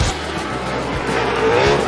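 Drift cars at a competition entry, engines roaring at high revs as tires squeal and skid in a loud, sustained, close wash of sound.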